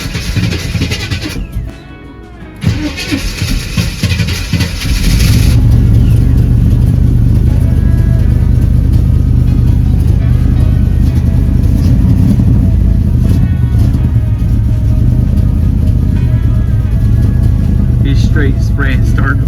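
A car engine on a newly bought street car, fed starting fluid after a battery swap, cranks briefly then catches and settles into a loud, steady rumbling idle that runs on without letting up.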